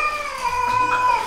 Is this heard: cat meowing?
yes